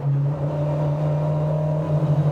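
A 1968 Ford Escort Group 5 touring car engine drones at high revs, a close, steady, loud buzzing tone that holds throughout with a slight pulsing flutter toward the end.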